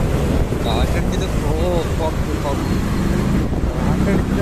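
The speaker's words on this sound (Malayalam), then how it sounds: "കാറ്റടിച്ചിട്ട്" Wind roars and buffets the microphone during a motorbike ride along the coastal road from Kochi to Alappuzha, a loud, constant rush with a person talking over it.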